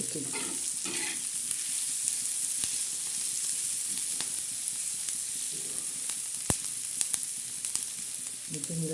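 Onion and prawn chutney frying with salt in a pan, a loud continuous sizzle with occasional spoon taps and stirring, close, with brief faint voice fragments.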